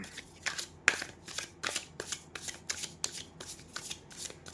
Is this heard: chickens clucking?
no